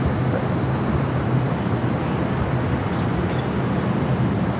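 A Delta heavy jet rolling for takeoff on runway 24 left at Los Angeles airport gives a steady, loud, broadband engine roar that holds without a break.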